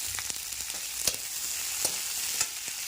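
Capsicum and onion stir-fry in sauce for Manchurian, a steady sizzle with a few sharp clinks and scrapes of the stirring spoon against the pan.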